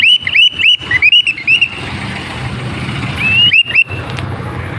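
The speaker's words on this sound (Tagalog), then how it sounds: "traffic na to." Morning street traffic with tricycles in Legazpi City, a low steady engine rumble near and far, with a string of bright chirps and a squeak at the start and again near the end, no talking.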